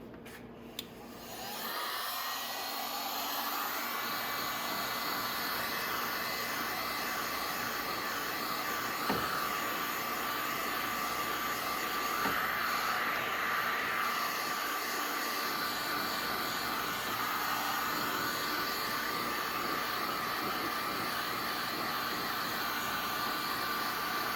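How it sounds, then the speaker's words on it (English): A heat gun warms the plastic body of a rolled 125cc mini Jeep: a click at switch-on, then a steady, loud, close blowing roar that holds evenly throughout with no talking. "You might notice I grabbed my heat gun too."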